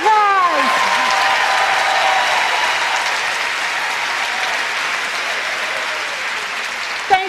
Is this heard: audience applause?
yes